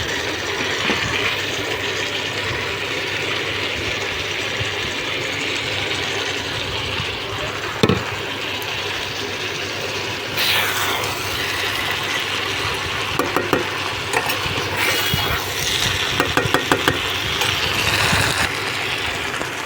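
Rice being stirred into paneer masala with capsicum in a pan, heard as a steady, fairly loud background hum and sizzle with occasional scrapes and clinks from the utensil against the pan, especially toward the end.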